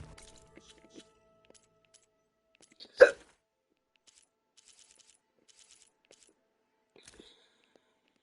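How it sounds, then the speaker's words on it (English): A person hiccups once, a single sharp, loud burst standing alone against near silence, with a few faint clicks scattered before and after. "Hiccups."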